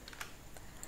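Light keystrokes on a computer keyboard in a short burst, soft and close, with a few separate taps.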